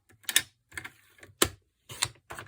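Card paper being cut with a paper trimmer, five short, crisp slicing and clicking strokes at uneven intervals, close and fairly quiet, with no talk.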